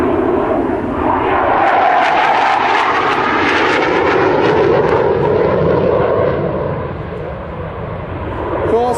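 A Hawker Hunter jet roars past in a display flyby, a loud, sustained broadband rush that swells and slowly fades, with a commentator's voice running over it.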